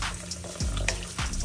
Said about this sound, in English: I'm just adding my water to my rice.